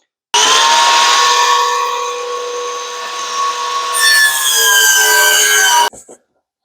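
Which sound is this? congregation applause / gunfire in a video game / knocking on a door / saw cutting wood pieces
saw cutting wood pieces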